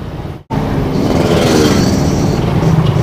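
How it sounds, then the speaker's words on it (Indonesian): Motorcycle with a stock, standard exhaust riding at night during a takbiran holiday ride in West Aceh, engine droning steadily and loud after a brief dropout at the start, with broadband road and wind noise. "Kalau suara knalpot gua knalpot standar, guys."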